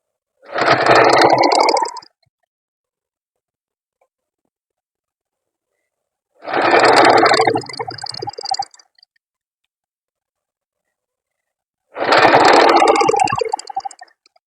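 Three separate bursts of a sewing machine stitching a blouse lining, each about two seconds long, with clean silence between them. The whir is close and loud, and no one speaks.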